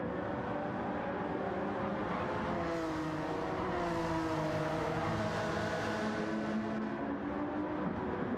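Race cars roar through a Manufacturers Cup race in Gran Turismo 7, engines revving and shifting pitch in layered, continuous whines with no break in the steady noise.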